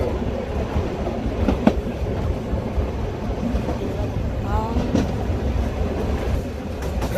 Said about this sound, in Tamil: அங்காலேயும் ட்ரெயின் போகுது பார்த்தீங்களா? ஒரு ட்ரெயின் போகுது, ஒரு ட்ரெயின் வருது.